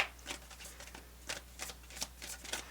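Tarot cards are shuffled in quick, papery riffling bursts, several short flurries spaced apart, close and fairly quiet.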